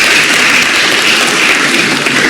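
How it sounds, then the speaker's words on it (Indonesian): Listeners in a lecture room give a round of applause, a dense, steady wash of many hands clapping at once, loud and continuous throughout with no talk. "Tepuk tangan ya buat teman-teman ini."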